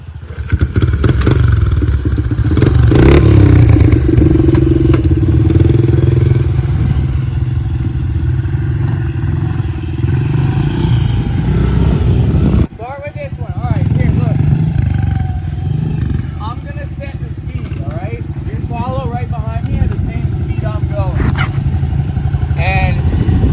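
Dirt bike engine droning loud and close on an outdoor track, steady with revving and clattering bumps as it rides over obstacles, a brief cut midway before the engine resumes, with people talking over it.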